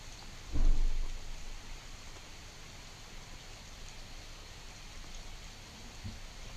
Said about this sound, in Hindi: कहीं मूसलाधार तो कहीं रिमझिम बारिश देखने को मिली है।